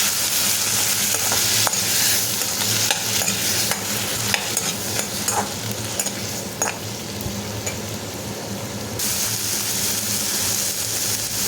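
Ripe tomato pieces sauté in a pan for mint chutney, giving a steady, close sizzle throughout with repeated scraping stirs and utensil knocks, and no talking.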